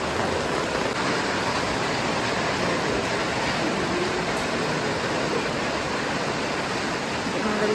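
Heavy rain pours steadily at an old temple in Kottiyoor, Kerala, a dense, unbroken roar of close, loud downpour that holds at the same level throughout with no voices.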